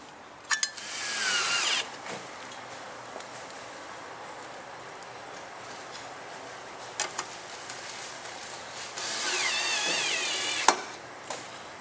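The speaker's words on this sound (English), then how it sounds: "we're going to affix the little air deflector fin using the silver screws you got supplied with the kit" A power tool drives silver screws to attach an air deflector fin during a cold air induction install on a Ford XR6 Turbo. Two close, whining bursts of driving are separated by quieter handling clicks.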